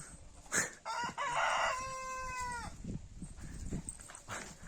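A rooster crows once, a loud, clear, drawn-out cock-a-doodle-doo close by outdoors in winter sun, with a short squawk before it and faint scratching and rustling around it.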